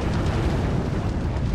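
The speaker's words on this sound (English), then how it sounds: "I want to blow this one up" An object blows up in the Lego Harry Potter video game with a dense, rumbling blast that fills the whole short moment at steady loudness.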